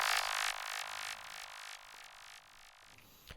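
A processed synth shot for a techno drop, with effects applied: a bright, hissy burst that repeats in a string of echoing pulses, each a little quieter than the last, then fades into a short noisy tail.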